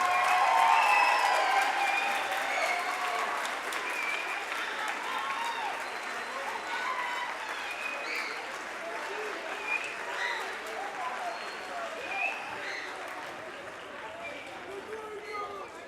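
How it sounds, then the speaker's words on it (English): A school band concert audience gives a long, full round of applause for middle school students, many hands clapping loudly at first, then gradually thinning, with a few voices and cheers mixed in. "So if we could give one collective great big round of applause for these students and their accomplishments"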